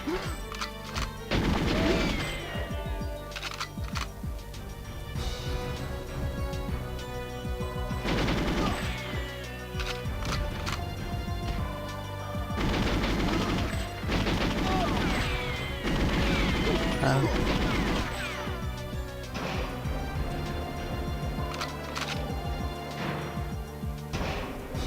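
Repeated gunfire from GoldenEye 007 on the Nintendo 64, Water Caverns level, crashing in dense bursts over a steady game soundtrack throughout.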